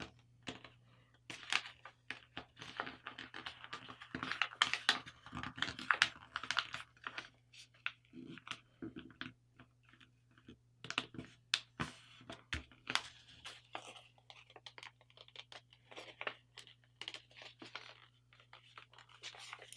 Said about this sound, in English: And just fold the other side to match.